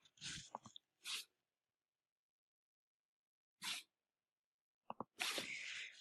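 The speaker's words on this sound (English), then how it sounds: "Sneezing." Several sharp sneezes burst out in short separate bursts with silent gaps between them, loud and close, ending in a longer noisy exhale.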